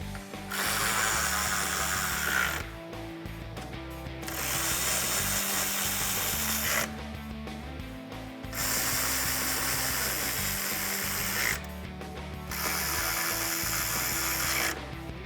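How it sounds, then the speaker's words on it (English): A power tool runs the four 10mm bolts down at the top of a Ram 1500 grille with a 10mm socket, whirring in four long, steady bursts separated by short pauses and brief clicks. "Now you can reinstall the 4 10mm bolts at the top of the grille and tighten them down to a 10mm socket."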